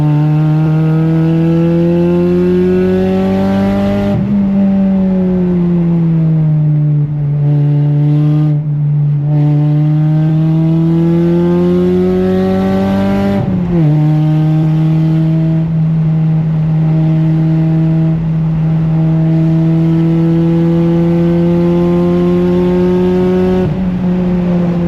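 A car lapping a race track, its engine droning in a steady loud tone that rises and falls with shifts and throttle changes, with sharp gear-change breaks every several seconds and no voices.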